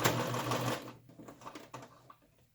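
Sewing machine backstitching a fabric yarn ball cozy, a loud rapid whirring burst that stops abruptly, followed by a few faint mechanical clicks and taps, close by with no talking.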